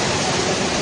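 Rushing floodwater in Bihar, India, a dense, loud broadband roar of churning water that fills the whole short moment without a break or any voices.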